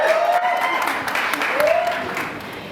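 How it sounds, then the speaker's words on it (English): A launch party crowd claps steadily for a guest speaker, with a couple of rising whistles cutting through the close, full wash of hands. "give a round of applause, yeah, for Lorna"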